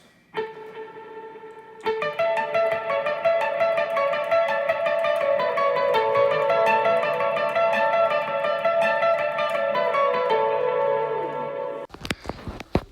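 Electric guitar lead line with delay, single notes repeating and trailing off in echoes, played steadily for several seconds before a brief pause.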